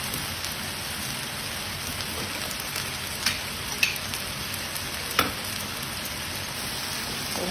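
Bean sprouts stir-fried in a pan at home: a steady, dense sizzle runs throughout like light rain, with a few soft clinks of a utensil against the pan, close and even, without talking.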